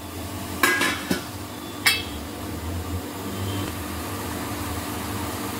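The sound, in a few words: putting a lid on the pot for steaming kothimbir vadi rolls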